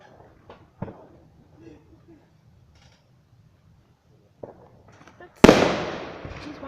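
Fireworks going off, a few faint pops and crackles early on, then one loud close bang at about five seconds followed by a fading crackling tail, with voices around it.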